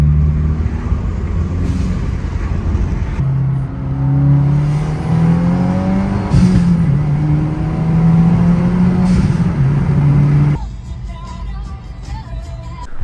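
A 2022 Subaru WRX with the FA24 engine and a Perrin cold air intake revs up through the gears, its loud engine note climbing in repeated rising sweeps before dropping off near the end.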